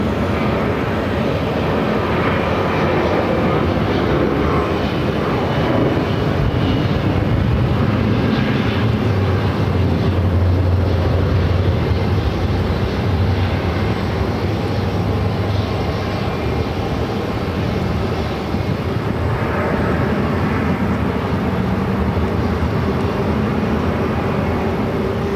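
An American Airlines Airbus A321neo airliner arriving at Phoenix airport on a flight from Philadelphia gives a steady, loud broadband engine roar that holds evenly throughout, with a low rumble swelling slightly near the middle.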